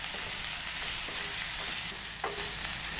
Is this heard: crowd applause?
no